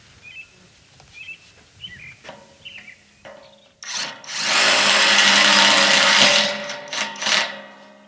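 Cordless power drill driving Tek screws into a high tunnel hip board, a loud whirring burst of about two seconds followed by brief short blips, with small clicks and birds chirping outdoors beforehand.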